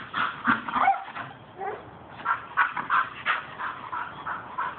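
A bull terrier barks and whimpers up at a cat in a tree, giving a string of short, close yips and whines in uneven bursts.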